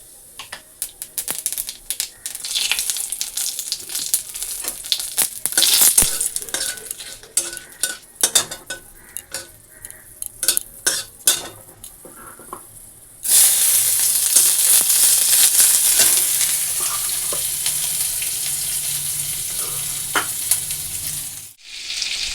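Onion, dried red chilli and bay leaf tempering in hot oil: spattering sizzle with clattering utensil scrapes and taps, then a sudden loud, steady frying hiss that continues to the end.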